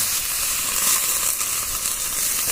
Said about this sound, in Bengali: তখন মশলাটা ভালো করে ভেজে নেব।